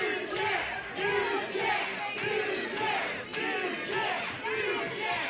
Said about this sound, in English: the crowd here in Oshawa is already chanting for a new champ